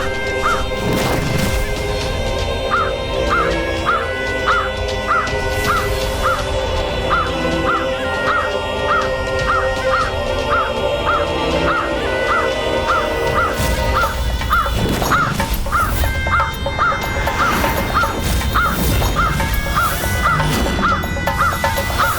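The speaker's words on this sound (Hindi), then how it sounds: "काक का कर्कश स्वर" Harsh crow caws repeat in a quick, steady series, loud and up front, layered over dramatic music with no talking.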